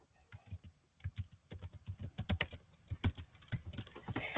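Fingers tap on a computer keyboard in a steady, uneven stream of close, crisp keystrokes with short pauses, heard alone without talk.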